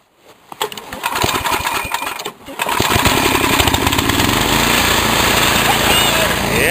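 A snowblower's small gasoline engine sputters through a rough start, then settles into a loud, steady close-up roar that runs continuously to the end, with brief voices over it at the start.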